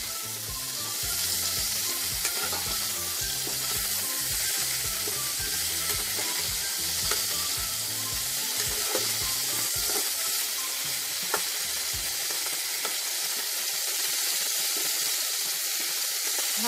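Potatoes with a little salt are stirred as they fry in a pan for vegetarian dum aloo. A dense, even sizzle runs throughout with faint stirring ticks, while a low rumble underneath drops away in the later part.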